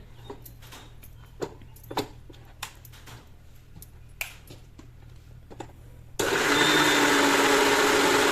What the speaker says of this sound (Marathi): आता मिक्सरमध्ये आपण फिरवून घेऊया